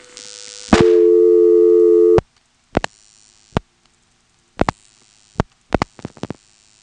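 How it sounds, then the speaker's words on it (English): A step-by-step telephone exchange director works after dialing the prefix 482 in Elizabeth City, North Carolina, in 1977: a steady tone hums for over a second, then stops. A series of sharp, irregular clicks and pulses follows, close and clear. "That little noise there was the director deciding what to do. That makes a pulsing noise."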